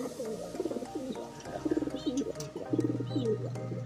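Pigeons cooing at a loft in the morning, several soft throaty coos overlapping close by, with faint chirps and light background noise and no talking.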